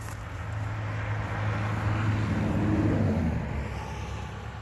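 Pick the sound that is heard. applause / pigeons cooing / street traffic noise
street traffic noise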